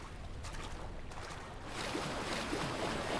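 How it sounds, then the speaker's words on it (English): Rushing water from a turning water wheel in the horror game Amnesia, a soft flowing wash that swells louder about halfway through, with no talk. "the sound of the water wheel coming back in scared me"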